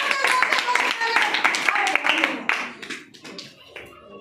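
Schoolchildren at a government Urdu school clap together in a room, a fast ragged burst of many hands that fades out over a few seconds while an adult voice speaks over it.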